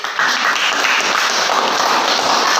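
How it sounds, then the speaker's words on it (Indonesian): A classroom audience claps steadily for the Eksplosif presentation group, a dense, even burst of applause sustained for a couple of seconds without talk. "sekali lagi tepuk tangan untuk kelompok eksplosif"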